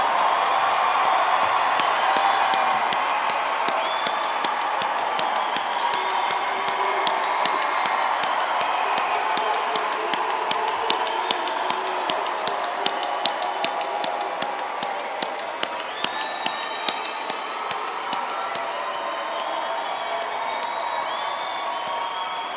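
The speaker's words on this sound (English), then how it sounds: "One more round of applause for the class of" Sustained applause and cheering from a large commencement crowd honoring the graduating class of 2018 at Thomas Nelson Community College, a dense steady roar of clapping with scattered whoops, alone throughout.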